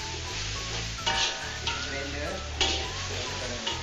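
Blended ginger, turmeric and shallots frying in a pan, a steady hiss and sizzle with occasional stirring scrapes as the paste hits the hot oil.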